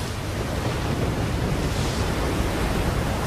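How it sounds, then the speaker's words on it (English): Huge winter swells breaking on a Hawaiian shore, a steady, loud, roaring wash of surf with wind noise, continuous and unbroken with no voices. "When they finally break, the waves can rise 70 feet, propelled at more than 40 miles an hour."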